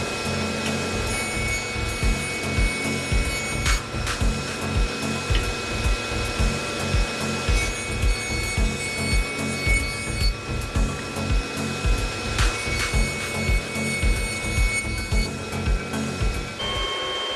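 A large jointer mills rough lumber in a home woodworking shop, its steady motor whine pulsing with a regular rhythm of cutting passes, close and continuous without talk.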